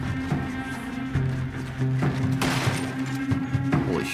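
Gunfire in Red Dead Redemption 2, a loud volley of several close shots and booms in quick succession over a steady droning game background.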